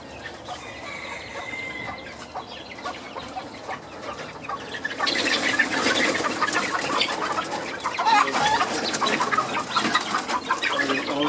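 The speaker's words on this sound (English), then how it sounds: "those are my replacement sitting hens, and I've got some more over there" Sitting hens in poultry pens clucking, a continuous chorus of murmuring clucks that grows louder and busier halfway through, with other fowl calling nearby.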